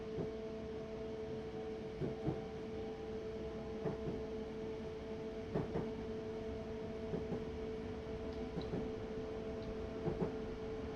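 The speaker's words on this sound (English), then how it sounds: "I like how you can hear the track joints, or some people might call it the clickety clack thing." Class 321 electric train in the Train Sim 2019 video game, faint rhythmic clickety-clack of track joints recurring every couple of seconds over a steady motor hum.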